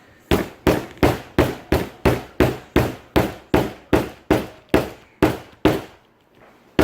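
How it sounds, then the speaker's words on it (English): Hammer blows while making a laminated traveler's notebook: about fourteen sharp, evenly spaced strikes, loud and close, each with a brief decaying ring, then a short pause before one more hit. "I'm just gonna use a hammer"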